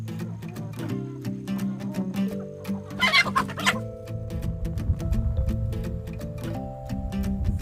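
Several rescued backyard chickens cluck and murmur close by in a steady run of short calls, with a brief louder squawking burst in the middle.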